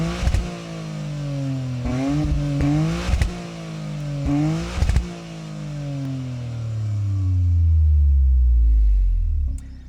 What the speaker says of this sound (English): that exhaust, Toyota says, is designed to let you really hear that 3-cylinder turbo